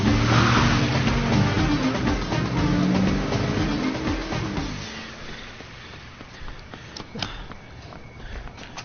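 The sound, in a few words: car being driven off, stolen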